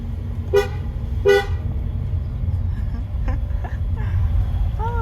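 A car horn toots twice in short, separate blasts on a winding mountain road in Tenerife, heard over a steady engine rumble, followed by fainter, more distant beeps.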